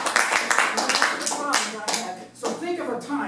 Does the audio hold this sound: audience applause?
yes